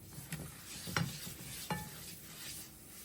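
Flour toasting in butter for halva is stirred in a pan, with soft scraping strokes and a few sharper spoon taps over a faint, continuous sizzle.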